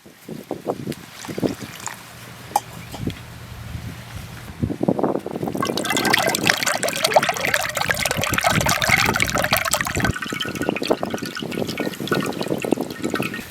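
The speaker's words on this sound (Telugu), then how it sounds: "మళ్ళీ నీళ్ళు వేసుకుని పిసుక్కోవాలి" Soaked maida flour being squeezed and kneaded by hand in water to draw out its milk for halwa, giving wet sloshing, squelching and trickling sounds that grow louder and steady after a quieter start.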